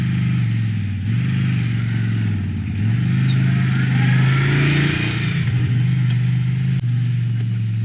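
A 2020 CFMOTO C-Force 1000 ATV engine rumbles loudly and steadily nearby as it pulls away, pitch stepping up with gear and throttle changes, with a brief voice beneath the motor.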